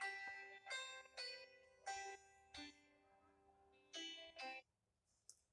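A phone ringtone plays several bursts of tonal chimes in an irregular rhythm, fairly loud and close, with brief gaps between them and no talking over it.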